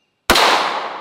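A flashlight-style gun fires a penetrator round into a 16-inch gel block, one loud sudden report after silence, its blast trailing off quickly with no talking.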